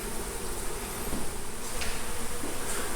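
Dense, steady swarm of bees buzzing up close throughout while a honeybee hive is cut out and removed, a continuous drone with no talking.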